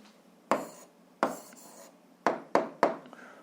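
Pen writing out an algebra answer on paper, five short scratchy strokes in quick succession, close and clear with no talk.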